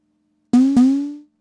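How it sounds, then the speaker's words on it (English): Two quick hits from a vintage Tama Techstar TS120 electronic snare, triggered by striking its stand, sound close together, each a sharp attack followed by a ringing tonal decay that fades within a second. "Hitting the stand works to trigger the actual drum."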